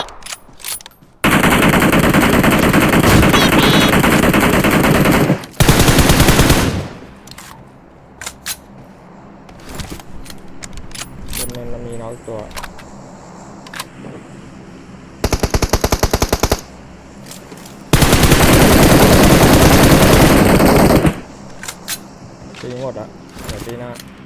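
Rapid bursts of suppressed automatic gunfire in PUBG Mobile come in long stretches, with gaps between them filled by people talking and scattered clicks.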